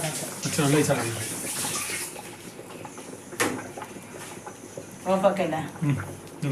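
Cooking water drained off a pot of boiled rice, heard as a rushing, gurgling pour under a speaking voice, with a sharp clank partway through.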